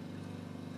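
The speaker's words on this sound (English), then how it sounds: "ignore that lawnmower" A lawnmower running outdoors, a steady droning engine hum at a constant pitch, continuous and fairly faint at a distance with no talk over it.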